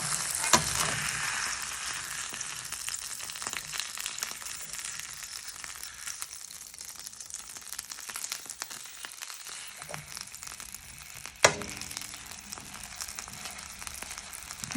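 Beef fillet for Beef Wellington searing in a hot pan, a steady close sizzle and fry throughout with a couple of sharp clatters from the pan or spatula, no voices.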